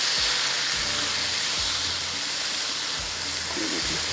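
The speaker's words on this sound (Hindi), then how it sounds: "गाजर, साथ में इसमें मटर। ठीक है, अच्छी तरह से आपने इसको इस तरह से फ्राई करना है।" Carrots and peas frying in oil for a mixed vegetable pulao, giving a steady, loud sizzling hiss that runs unbroken throughout, with a few soft low clunks of cookware underneath.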